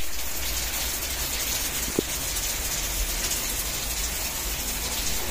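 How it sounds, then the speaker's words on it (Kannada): Rain falls outside as a steady, broad hiss that stays even throughout, moderately quiet, broken only by a single faint click near the middle. "ಮಳೆ ಬಂತು, ಹೊರಗಡೆ ಹೋಗ್ಲಾಗ್ತಿಲ್ಲ ಅಂದ್ಕೊಂಡಿದ್ದೆ."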